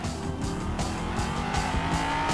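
A car speeds and skids in the video game GTA V, a loud continuous engine roar with squealing tires and rapid revving, close and alone with no talking.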